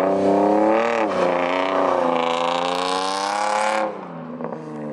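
An engine revs hard in first gear during a burnout attempt, a loud, sustained high-pitched roar held for several seconds that swells slightly, then drops sharply as the throttle is released.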